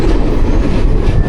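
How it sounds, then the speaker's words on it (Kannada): A train rumbles past loud and close on the seaside railway by a beach in Sri Lanka, a dense, continuous roar of wheels and wagons with no pauses. "ಬೀಚ್ ಪಕ್ಕದಲ್ಲೇ ರೈಲ್ ಹೋಗ್ತಾ ಇದೆ"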